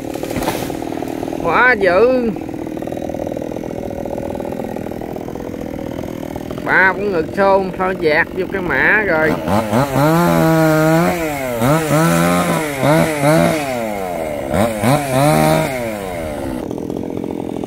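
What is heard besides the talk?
chainsaw cutting a tree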